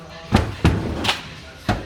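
A laser-cut, folded and welded metal cargo drawer unit is set down on a table, giving four separate dull thuds and knocks spread over a couple of seconds.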